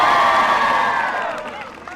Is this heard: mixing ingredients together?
no